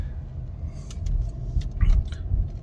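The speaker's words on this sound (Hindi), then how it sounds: "ये मेरी गाड़ी स्टार्ट हो चुकी है" A manual car's engine runs low and steady just after being started during a driving lesson, with a few light clicks and rattles from inside the cabin.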